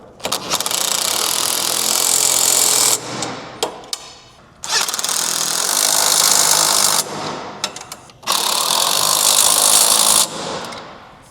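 A ratchet and socket tighten bolts on a pontoon boat in three long, loud whirring bursts of about three seconds each, separated by short pauses.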